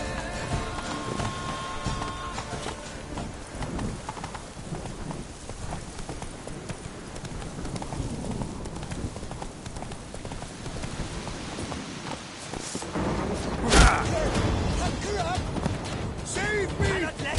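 Roach the horse gallops in The Witcher 3: Blood and Wine, a steady run of hoofbeats over a constant outdoor bed. It continues throughout and gets a little louder near the end, with occasional game voices mixed in.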